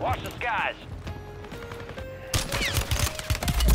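Kastov LSW light machine gun bursts in a video game, rapid fire sounding loud and close in short stretches, with a player talking over the shooting.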